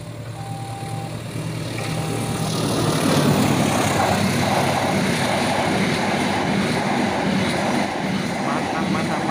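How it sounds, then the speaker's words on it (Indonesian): Passenger train passing a level crossing, a loud, broad roar and rattle of wheels and carriages building and sustained throughout, with a crossing siren tone briefly audible at the start. "Ini kereta api Aksata."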